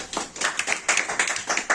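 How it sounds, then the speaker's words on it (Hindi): Small class of students in an Indian accounting lesson clapping hands together, a short burst of uneven, close individual claps repeating about eight times. "एक बार ताली बजा दीजिए सर सब"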